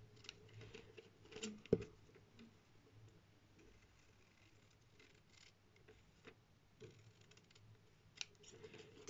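Quiet, sparse snips of scissors cutting rice paper, a few crisp clicks spread out over soft background rustling.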